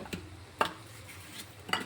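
A spoon scrapes and clinks against a pan as chili powder, salt and coriander powder are stirred into rice for egg fried rice, giving a few soft, separate taps close by and nothing else.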